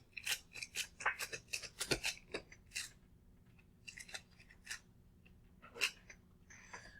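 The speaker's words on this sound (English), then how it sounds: "do some tape lifting of my chalk tray here" Sticky tape being pressed onto and peeled off a chalk tray, a series of short crackling rips and taps in irregular bursts, close and fairly faint, with no talking.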